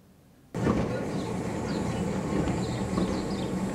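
A heritage tram runs through Christchurch. It starts abruptly and carries on as a steady rolling rumble, with faint rail clatter and squeals over the top. No voices are heard.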